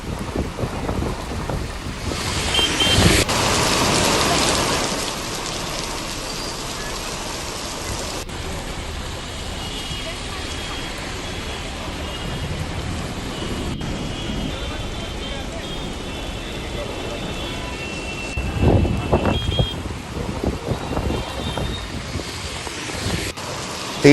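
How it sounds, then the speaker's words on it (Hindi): Heavy rain driven by strong wind during a sudden weather change in Madhya Pradesh, heard as a steady, loud broadband roar of rain and wind noise. It swells in gusts near the start and again toward the end. "तेज हवा के साथ बारिश का सिलसिला शुरू हुआ"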